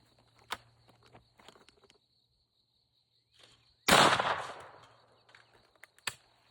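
A single loud shotgun blast fires at a clay target at long range, using 8 and 5 shot loads; its boom decays quickly and is framed by small clicks and handling sounds in an otherwise quiet outdoor setting.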